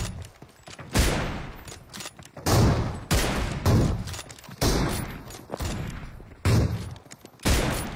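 Gunfire in a video game, heard as a series of loud, sharp bursts that repeat roughly every second or so, each one fading quickly into a quieter background.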